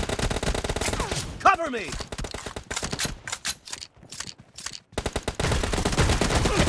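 Rapid bursts of M1014 shotgun fire in PUBG Mobile, loud and close, with rattling volleys and sharp cracks spread across the clip, brief gaps between them and a short voice callout in between.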